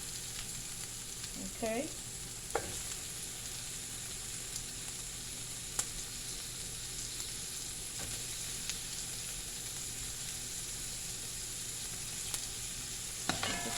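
Pork pigtails sizzle and fry steadily in a pot for Bahamian pigeon pea soup, a continuous close hiss with a few clinks and stirring knocks, plus one brief spoken word.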